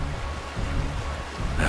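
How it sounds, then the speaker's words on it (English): Rain falls as a steady, soft broadband hiss, fairly faint and unbroken for under two seconds. "Then Allah will send rain to clean the earth."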